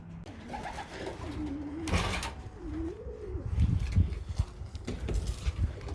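Young pigeons coo softly up close, a few low warbling calls over rustling and shuffling, with a brief burst of flapping or handling noise around the middle.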